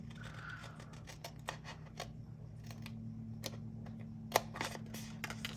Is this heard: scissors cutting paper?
yes